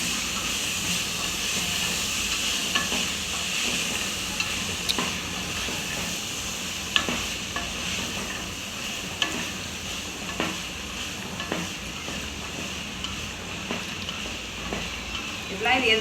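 Vegetable biryani mixture with sprouted grains gets stirred in a hot pan, a constant steamy hiss and sizzle broken by repeated soft scrapes and taps of the spoon, while a voice talks over it.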